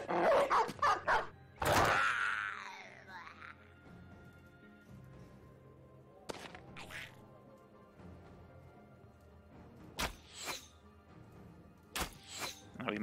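Dogs barking and yelping in the fantasy combat game Battle Brothers, several sharp bursts scattered across the fight: a cluster at the start, a loud crash-like yelp, then isolated barks spaced apart over low ambient game music.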